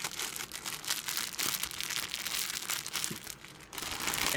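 Old plastic bags being crumpled by hand, a steady, close crinkling and crackling that runs throughout with brief pauses.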